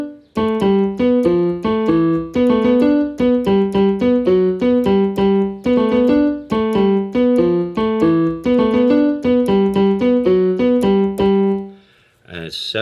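A section played on a pitched instrument as a loud, fast run of sharply plucked notes in a repeating riff of alternating seven- and eight-beat groups, ending in a brief pause and a final note.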